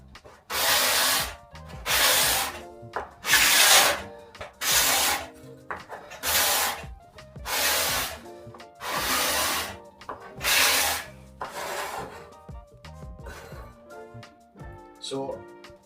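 Repeated rhythmic scraping strokes of a card scraper on beech wood, about nine evenly spaced rasping passes up close, each a second or so long, with quiet pauses between; dusty, sanding-like rather than shaving.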